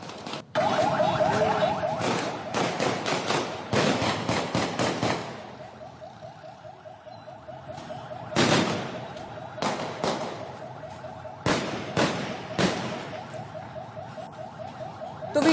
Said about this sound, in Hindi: इस वीडियो में पुलिस एहलकारों को मुख्तलिफ हथियारों से फायरिंग करते हुए भी देखा जा सकता है।